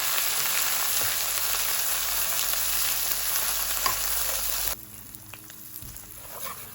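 Red curry paste dry-frying in hot oil in a wok gives a dense, loud, continuous sizzle with stirring scrapes, then drops abruptly to a quieter crackle as the heat is lowered, with no talking.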